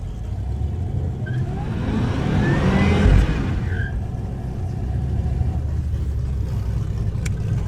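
A Cadillac CTS-V performs a burnout at a drag strip, engine and tire roar swelling to a loud peak midway and then fading into a steady rumble, heard from nearby.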